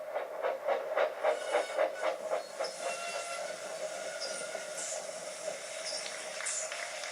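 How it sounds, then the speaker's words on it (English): Steam engine train chuffing into a station, with a rapid rhythmic puffing early on that fades into a steady hiss and rolling rumble as it slows. "chanted Annie and Clarabelle as they whooshed into the last station."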